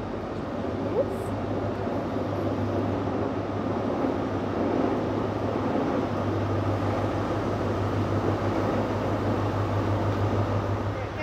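A Taunton train pulls into Bristol Temple Meads station with a steady, loud, low rumble and engine hum that fills the platform without a break.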